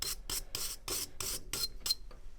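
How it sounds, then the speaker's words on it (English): Brass-bristle brush scrubbing gunk out of a furnace burner, about eight quick rasping back-and-forth strokes in an even rhythm, close and fairly quiet, with nothing else heard. "Stick these little hairs, the brass hairs, in there real good and just clean it out."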